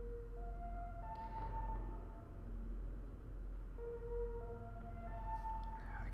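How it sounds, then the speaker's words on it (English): A faint wailing siren in the video game SIGNALIS rises and falls in long sustained tones over a steady low hum, distant and quiet. "I can sort of hear the siren"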